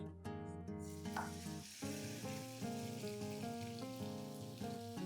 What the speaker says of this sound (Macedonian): Тука сега ќе го ставиме месото кој што претходно ни стоеше во кунската хартија, на претходно добро загреана тава.